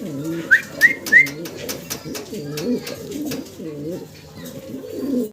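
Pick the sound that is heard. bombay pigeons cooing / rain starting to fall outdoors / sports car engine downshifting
bombay pigeons cooing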